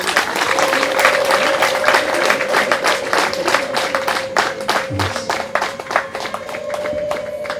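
An audience at a Kigali wedding breaks into loud, sustained applause with a high held ululation running through it, welcoming the bride into the groom Eric's family.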